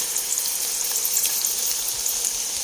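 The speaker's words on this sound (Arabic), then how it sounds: "حطيت زيت وزبدة، ولما تتقلب البصلة بدي احط معجون الثوم والزنجبيل" Onion fries in oil and butter in a pan of rice for a tandoori chicken meal, giving a steady bright hiss of sizzling with faint crackles throughout, with no voices.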